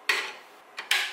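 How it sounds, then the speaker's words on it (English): A metal LEGO axle slides through a magnet core in two short scraping bursts, the first longer and the second brief with a quick follow-up, close and fairly quiet with no voices. "Then we'll pass another metal axle through the magnet core"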